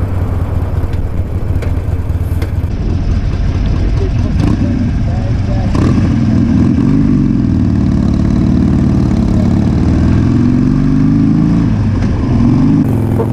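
Harley-Davidson motorcycle fitted with a Stage 1 upgrade and Vance and Hines FP3 fuel pack, its engine idling with a steady low rumble throughout, a voice talking over it.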